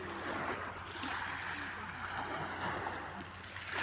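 Sea waves wash continuously at a beach in Dederköy, a steady broadband surf hiss with soft swells, moderately quiet and without talk.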